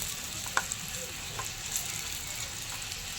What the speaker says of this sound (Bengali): তো এই যে মাংসটা দিয়ে দিয়েছি। এবার একটু ঘুটে দিই।